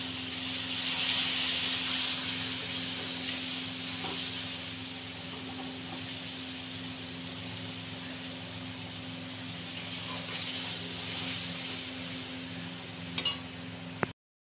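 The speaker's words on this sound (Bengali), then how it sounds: "তেজপাতা ফোড়ন দিয়ে তেলের মধ্যে টমেটোটা দিয়েছি আর নুন দিয়ে দিয়েছি" Tomato and salt fry in oil tempered with bay leaf, giving a steady, soft sizzle and hiss that runs unbroken over a low background hum, ending in a couple of faint clicks.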